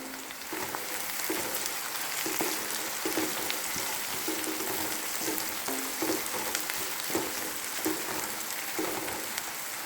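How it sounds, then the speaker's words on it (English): Turmeric powder going into a hot frying pan during Kerala-style jackfruit biryani cooking, with a steady, dense sizzle like light rain running evenly throughout, close and moderately loud, no talking. "I'm going to add some turmeric powder."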